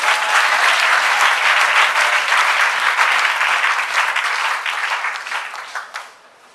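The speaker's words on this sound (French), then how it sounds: "acclame le Seigneur" A congregation at a prophetic worship service applauds the Lord with loud, dense, sustained clapping that fades away near the end.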